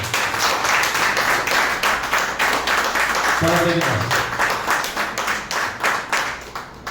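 A church congregation gives continuous applause, dense clapping that fills the whole stretch at steady volume, while a single voice briefly speaks over it partway through.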